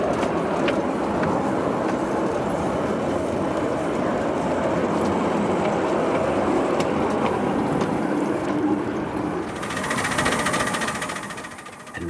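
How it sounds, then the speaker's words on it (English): A 7 1/4 inch narrow gauge miniature locomotive hauls a passenger train uphill, with a continuous close rumble and rattling wheels rolling along the track throughout. "we enjoy a ride on the home locomotive as we take the passenger express service up to the top station"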